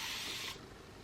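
A continuous-mist spray bottle of makeup setting spray hisses steadily and close for about half a second, then cuts off to quiet.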